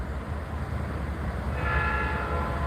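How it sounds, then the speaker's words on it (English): A train passing over a track in downtown Louisville, Kentucky, heard as a steady low rumble, with a horn-like tonal blare rising in the second half and continuing to the end. "It's a train going across this track."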